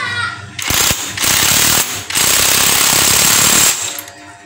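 A rear shock absorber nut is tightened with a 19 mm tool, producing loud, close rattling bursts of mechanical hammering separated by brief pauses.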